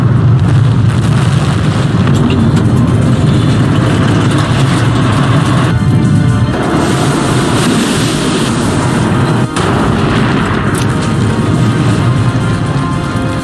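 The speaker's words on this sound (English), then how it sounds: "another detonation rips through the front of Kursk." A torpedo detonation aboard the Russian nuclear submarine Kursk comes across as a loud, sustained, deep roaring rumble that fills the whole stretch, with a brief dip and a sharp jolt near the end.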